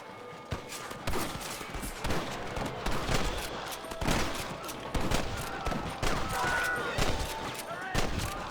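Rapid gunfire in a Red Dead Redemption shootout against rustlers, dense overlapping shots and volleys going off near and far throughout, with shouting voices mixed in.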